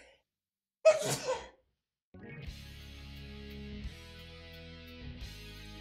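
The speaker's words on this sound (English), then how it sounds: "And I'm going to sneeze." A single sharp, loud sneeze close to the microphone, followed after a short pause by a steady background of soft electronic music.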